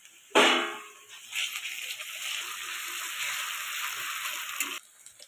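Garlic paste added to frying onions in hot oil: a sudden loud hiss as it lands, easing into a close, continuous sizzle with occasional stirring, which stops sharply near the end.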